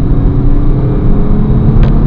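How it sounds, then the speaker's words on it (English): A 2010 Jaguar XF 3.0 accelerating, heard as a steady, loud low engine rumble and road roar from inside the car, with no voices. "The acceleration on this car"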